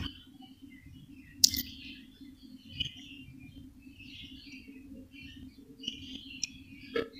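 Australian doves on a bird farm give scattered soft chirps and calls, faint and intermittent over a low steady hum, with a few sharp clicks and no voices.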